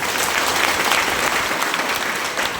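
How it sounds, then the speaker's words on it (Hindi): An event audience bursts into dense, loud applause for an older man, a continuous close wash of many hands clapping with no voices on top. "एक बार तालियां हो जाए अंकल जी के लिए"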